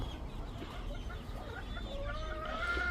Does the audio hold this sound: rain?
no